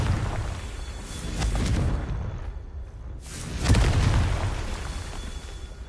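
Confringo blasting-spell explosions in a Hogwarts video game: two deep, rumbling booms with a whooshing rush, the second heavier and closer, each tailing off into a low roar, with no talking.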